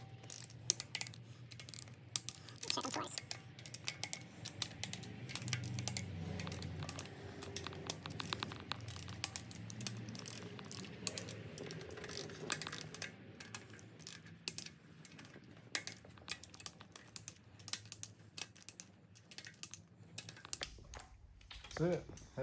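Ratcheting torque wrench clicks steadily while tightening the smaller cylinder head bolts on an LSA supercharged V8 during a refresh, a dense run of mechanical ratchet and clicking sounds close up over a low background hum, with occasional talk.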